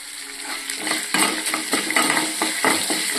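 Chana dal fries to golden for uppu urundai, giving a bright, steady sizzle broken by clinking stirs of a spoon against the pan, close and with no talk.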